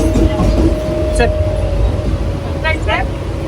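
Steady rumble and rattle from inside a moving Mumbai local train, continuous and fairly loud, with faint brief squeals and voices in the carriage.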